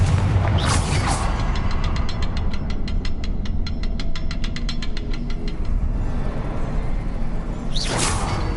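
A Confringo fire spell bursts in Hogwarts Legacy with a loud whooshing blast, followed by a fast mechanical rattling clatter that fades out, then a second whooshing burst near the end, all over a dense, constant rumbling game soundscape.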